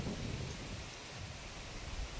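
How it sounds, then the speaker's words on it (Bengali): A strong windstorm blows through a bamboo grove with a steady, broad roar of rushing air and occasional louder gusts, fairly faint and with no voices. "বেচারা ঝড় উঠেছে"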